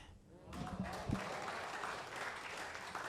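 Audience applause at a poetry recital swells after a short quiet start. Faint voices and a few low thumps sit under the moderate, steady clapping.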